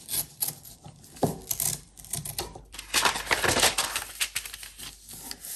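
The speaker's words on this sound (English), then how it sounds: "Now we just have to open up the other side of the envelope." Paper junk mail envelope being opened up by hand for a journal, a continuous close rustle and crinkle of paper with sharp tearing and crackling bursts throughout, no talking.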